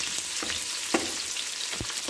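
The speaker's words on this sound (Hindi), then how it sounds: "कढ़ाई पहले से गर्म थी इसलिए तेल गर्म हो चुका है। यहाँ पे मैं प्याज डालूंगी।" Chopped onions, two medium-sized, sizzle and fry in hot oil in a preheated kadai, a steady close hiss with a few soft stirring knocks.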